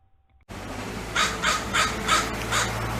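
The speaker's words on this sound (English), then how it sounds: "I forgot to play the sound of the American crow, so here's the American crow too." An American crow caws four times in a steady rhythm, harsh and fairly close, over a low background hum.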